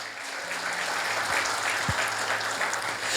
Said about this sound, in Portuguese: Aplaude a Ele, aplaude a Jesus